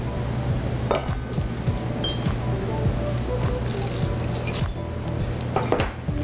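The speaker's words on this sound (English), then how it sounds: "fold in 2 cups of chocolate chips" Chocolate chips being folded into cookie dough in a bowl, with soft squishy mixing, light scraping and small clinks of utensil against the bowl, steady and close with no talk.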